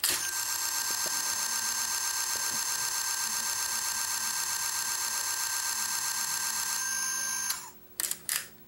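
The motorized spinning Gatling gun on a Transformers Dark of the Moon Leader Class Mechtech Ironhide toy, a steady high-pitched electric whir running for about seven seconds before cutting off, followed by a few small clicks.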